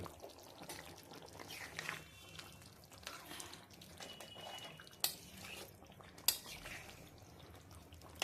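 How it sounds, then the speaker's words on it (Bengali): Hot water poured into a cooking pot of potatoes and chicken, a soft continuous splashing pour with a few sharp clinks, fairly faint and without speech. "এবার একটু গরম জল দিয়ে দেবো। গরম জল দিয়ে এটা বসিয়ে দেবো, সিদ্ধ হবে আলুগুলো।"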